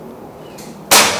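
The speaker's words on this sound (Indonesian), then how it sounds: "Tembakan yang pertama." A single sharp, loud burst of a PCP bullpup air rifle shot cracks out after a quiet moment, its noisy tail fading briefly.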